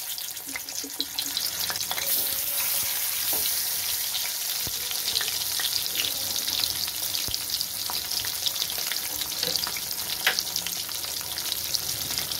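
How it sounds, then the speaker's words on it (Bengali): Fish pieces fry in hot oil in a pan, a dense, steady sizzle and crackle that holds loud and close throughout with scattered pops and occasional utensil sounds. "এবার আমি মাছগুলো ছেড়ে দেবো।"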